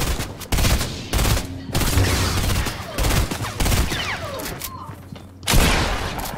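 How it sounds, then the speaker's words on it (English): Machine gun fire in the Fortnite video game, heard as bursts of rapid, loud gunfire that come in several separate volleys, with voices talking faintly in the background. "I thought you had a blue machine gun"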